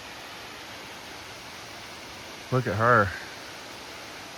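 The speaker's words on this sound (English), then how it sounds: "Okay, I went down like another 5 feet and then there's a waterfall." Steady broadband rush of a waterfall along a hiking trail, close and continuous throughout, with a brief spoken phrase near the end.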